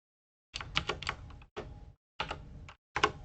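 A computer keyboard is typed on in four short separate bursts of quick clicking keystrokes, close and fairly quiet, with silent gaps between the bursts.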